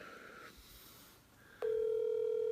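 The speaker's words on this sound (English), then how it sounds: "Can everybody hear the phone okay?" Telephone call being placed: faint line noise, then a steady ringback tone starts abruptly and holds loud and even.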